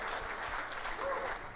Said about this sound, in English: you can clap for them, they're great